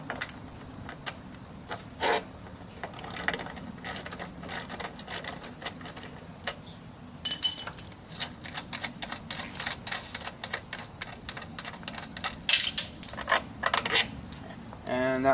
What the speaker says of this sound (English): now you're going to want to remove this bolt with a ratchet and 12mm socket.